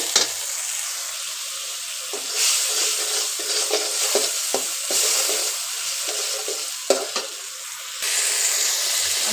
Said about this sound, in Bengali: তারপর একসাথে ভেজে নেব, মশলাটা কষায় নেব।